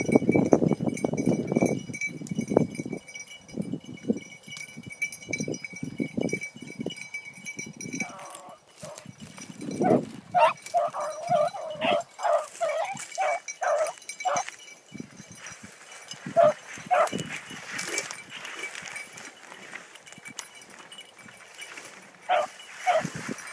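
Hunting dogs chase rabbits through cane fields, giving scattered yips and barks that come in bursts at middling distance, while a person talks between them.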